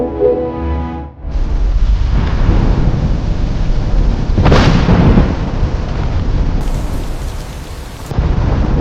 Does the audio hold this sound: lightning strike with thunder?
yes